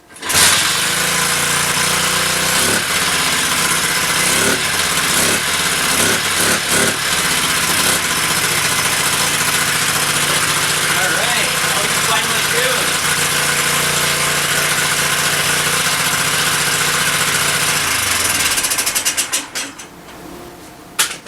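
Small engine of a Honda Z50 clone mini bike running loud and close with an uneven idle, stumbling several times before dying out near the end.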